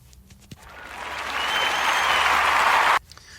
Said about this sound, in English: I give myself a round of applause for that one